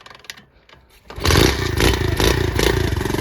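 A pit bike engine catches after a few quiet clicks and settles into a loud, rapid, close-up running putter with a slightly uneven rhythm.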